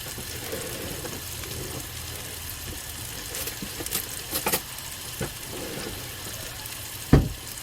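Scallops fry in butter in a pan with a steady, soft sizzle and crackle that runs throughout, broken by a few faint clicks and one sharp metallic clink near the end.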